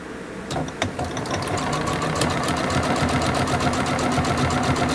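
A sewing machine stitches a craft cord with a steady, rapid mechanical patter that begins after a brief pause and keeps a fast, even rhythm close by.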